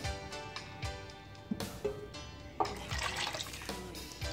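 Water poured from a glass into a kadhai of kadhi batter in a home kitchen, a soft splashing pour with faint clinks, fairly close, no talk.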